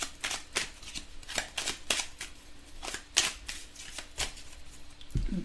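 A deck of oracle cards is shuffled by hand in a quiet room: a soft run of quick, crisp riffles and taps, repeated about a dozen times at close range.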